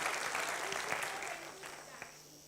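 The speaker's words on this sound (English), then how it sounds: "Let's give a round of applause." An audience at a university gathering claps in a faint, even burst of applause that tapers off over about two seconds, with talking mixed in.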